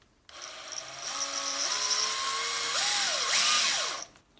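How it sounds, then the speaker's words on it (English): A power drill bit grinds slowly into a ceramic tile, its high whining tone rising and shifting in pitch over a few seconds, close and loud with no talking. "Start off slowly, and you'll hear the drill bit going through the"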